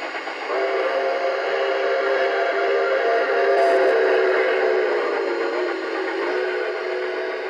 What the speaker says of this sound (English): I hear the other train.